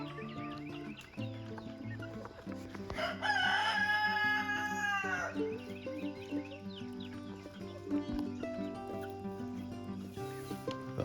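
In a chicken breeding pen, a rooster gives one loud, drawn-out crow over a constant backdrop of clucking and murmuring hens, all close by.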